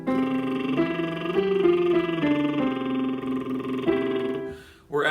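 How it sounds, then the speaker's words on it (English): A singer performs a lip trill warm-up, buzzing through a simple arpeggio up a fifth and then down the scale in one smooth, connected line, close and steady, alone, with a short breath at the end. "if you want to do a tongue and lip trill, brrr, kind of like you're blowing a raspberry"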